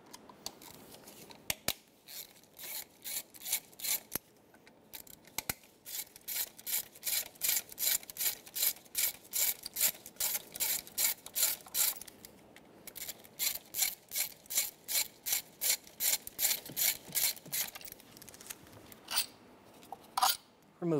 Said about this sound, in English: Using a T40 bit, we're going to remove the two bolts out of the top of the ignition coils.